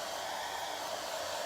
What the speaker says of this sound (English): And I can do this with this blow dryer because this is cool air that I'm doing it.